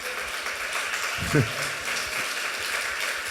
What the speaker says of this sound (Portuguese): Quantos podem louvar o Senhor com um aplauso por isso?